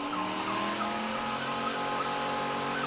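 Two Ford Crown Victoria cars doing burnouts at a test-and-tune event: sustained tire squeal and engine roar held steadily at a distance, a continuous screeching drone with no break.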